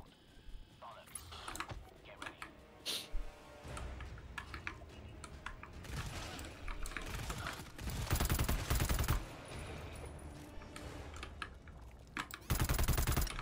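Bursts of gunfire in the co-op stealth shooter GTFO, rapid cracks clustered mid-clip amid clicking keyboard taps, with voices talking over the action.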